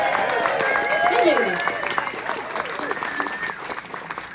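Audience at a live bluegrass concert at The Loft, UCSD, applauding the lead singer, sustained clapping throughout with a voice thanking them over it.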